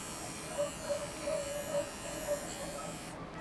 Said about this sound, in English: When using the clipper